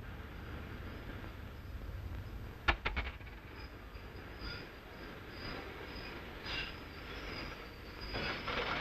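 A train rumbles steadily along the rails, with a cluster of sharp metallic clacks early on and faint squealing, heard from inside at moderate volume, in the 1936 western film Wild Brian Kent.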